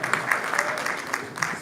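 Audience applause greets an arriving performer at the FIRHO event, a steady wash of clapping from a crowd, moderately loud and continuous with a few sharper peaks, no voices clearly standing out.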